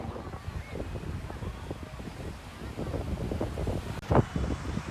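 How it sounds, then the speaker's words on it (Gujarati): Steady wind rushing over the microphone with a soft wash of surf underneath on Puri beach, Odisha, and a brief louder gust near the end. "ખાલી દરિયાનો અને પવનનો અવાજ આવે"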